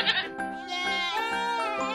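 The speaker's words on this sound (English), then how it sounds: "At a farm, the cattle were screaming loudly," Cartoon farm animals crying loudly, heard as a series of loud wavering sheep-like bleats that follow one another in quick succession, close and clear.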